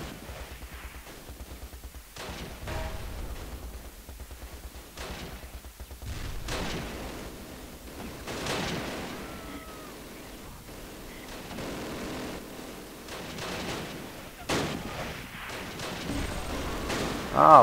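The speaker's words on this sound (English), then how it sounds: "they're blowing up our tanks here" Tanks are blown up in the WWII strategy game Close Combat, with scattered muffled booms and gunfire cracks at uneven intervals over a low rumbling battle backdrop, some blasts louder and nearer than others.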